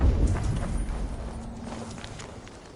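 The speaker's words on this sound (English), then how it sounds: "Now to deliver Magni his horse" Horse hooves clip-clop at a walking pace in the video game Assassin's Creed Valhalla, with steady, moderately close footfalls over a low rumbling background.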